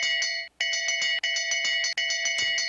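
A bell rings rapidly for the bell lap of a men's mass start speed skating race, sounding as repeated bright clangs in three quick bursts separated by brief pauses.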